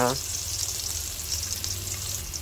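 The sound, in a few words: garlic and ginger sautéing in pan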